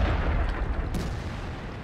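Tank cannon fire in the World of Tanks video game: a dense, loud low rumble fills the whole moment, with one brief sharper burst near the middle and no voices.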